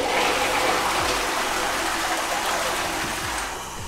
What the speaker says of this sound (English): How do we flush this?